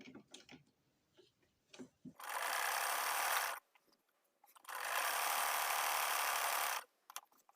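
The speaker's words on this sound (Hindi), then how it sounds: "यहाँ पे किनारे पे हम सिलाई लगा देंगे" A sewing machine stitches lace onto a folded fabric edge in two loud, steady runs of about a second and a half each, separated by quiet pauses with soft handling clicks.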